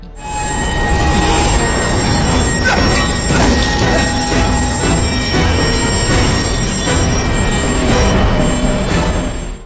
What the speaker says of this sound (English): As the train screeches to a halt less than a meter behind him